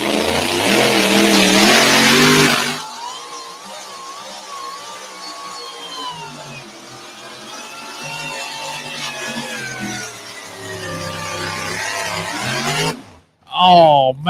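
A truck engine with something not quite right revs loudly for a few seconds, seeming to pull down a little, then drops to a lower running drone while people talk over it, ending with a brief sharp burst.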